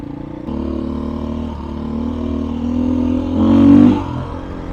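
A Beta dirt bike on the China Wall OHV trails in Colorado, its engine humming steadily nearby and rising into a louder rev near the end before easing off.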